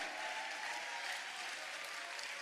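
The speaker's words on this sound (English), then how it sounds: "Let us clap and celebrate the youth." A church congregation claps together in sustained, dense applause that fills the room evenly, with no voices rising above it.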